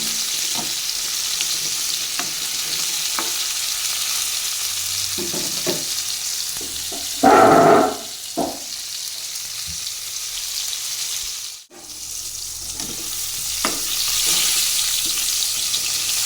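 Sliced pointed gourd (potol) fries lightly in hot oil, giving a steady soft sizzle with occasional stirring clinks and a brief louder burst partway through.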